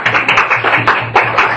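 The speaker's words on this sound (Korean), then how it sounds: "먼저 우리 하나님께 영광의 박수 올려드리고 시작할까요?" A church congregation claps in praise to God at a Thursday Bible lecture, a loud, fairly rhythmic burst of many hands beating together in short repeated pulses.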